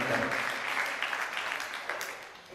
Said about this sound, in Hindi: एक बार उनके लिए जोरदार दोनों हाथ उठा के ताली करें।